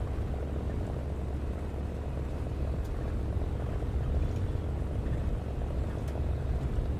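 P-51 and Yak-3 propeller fighter engines in a video game, a loud continuous droning roar that holds steady throughout, with no talking.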